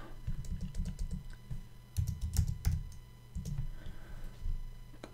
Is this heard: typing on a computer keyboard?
yes